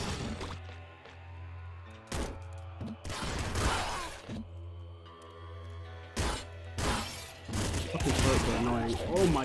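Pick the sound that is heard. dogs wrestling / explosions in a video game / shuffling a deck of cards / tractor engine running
explosions in a video game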